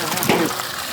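Fresh water gushing from a tap while vegetables are rinsed for a soup, a brief, dense, close rush of running water with voices over it.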